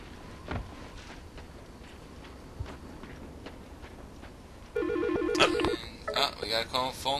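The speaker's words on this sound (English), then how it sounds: "We got a phone call from Sybil." In the Silent Hill Shattered Memories video game, a phone rings out loud and sharp with repeated warbling electronic trills near the end, after a quieter stretch of ambient game noise and faint thuds.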